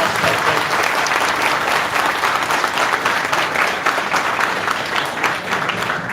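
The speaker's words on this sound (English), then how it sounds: "Guys, give Colin a good round of applause" A conference audience applauds steadily for several seconds, dense and close, clapping at an even intensity throughout.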